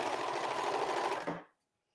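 A serger overlocking around the edge of fabric for an apron, a fast, steady, close mechanical whir that stops abruptly after about a second and a half, followed by silence.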